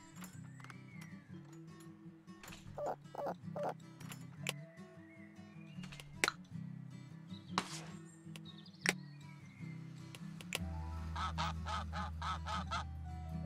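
Geese in the video game Let's Build A Zoo give repeated short honks at irregular intervals over soft, layered game sounds, with a busier passage near the end.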